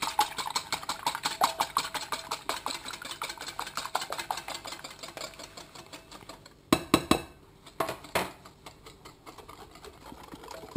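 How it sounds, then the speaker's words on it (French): Two eggs beaten with sugar in a bowl, a fast steady rattling whisk or beater running for several seconds, then a few louder clattering knocks and short bursts near the end, with no talking. "je bats les 2 œufs avec le sucre"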